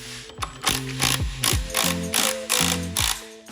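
A ratchet wrench tightening a nut onto the countershaft bearing of a Scott Bonnar Supercut model 17 lawn mower, a close series of rhythmic metallic clicking strokes, each burst separated by brief pauses.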